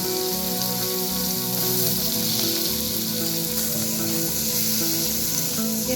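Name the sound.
fried onions added to the sizzling pan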